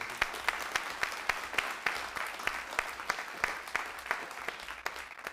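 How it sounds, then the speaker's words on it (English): Church audience at a praise night applauding a Free Church praise band, a steady, dense wash of clapping that stays full and even throughout. "I think we should give them another round of applause."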